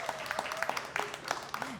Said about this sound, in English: please join me for a round of applause for Alanna Logan